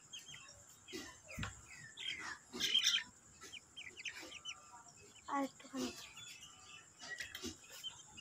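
Backyard pet chickens clucking and calling in short bursts at close range, mixed with other bird chirps, while people talk nearby.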